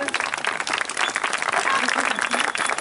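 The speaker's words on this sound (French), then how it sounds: "Give her a round of applause." Audience applause at a birds of prey show in Tremblant, a dense sustained clapping that runs loud and steady throughout, with a voice speaking faintly underneath.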